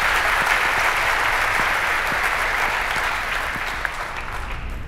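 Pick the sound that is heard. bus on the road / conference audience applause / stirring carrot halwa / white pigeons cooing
conference audience applause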